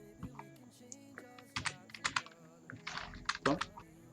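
Someone hammers on a worn computer keyboard with stiff, bad keys, producing irregular bursts of loud, clattering keystrokes close by, with short pauses between flurries.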